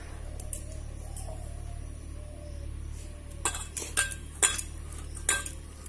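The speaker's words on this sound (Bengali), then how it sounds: "এগুলো খুব ভালো করে এবারে মিক্সড করে নেওয়া হবে" A spice paste of ginger, cumin, mustard-poppy, salt and turmeric is mixed in a bowl for steamed hilsa. Soft stirring gives way to several bright spoon clinks against the dish, over a faint low hum.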